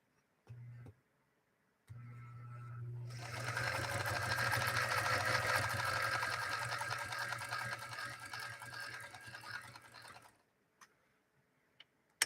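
A Featherweight sewing machine stitches in one steady run of about seven seconds, its rapid mechanical chatter fairly close and alone, preceded by a low motor hum and followed by a few faint clicks.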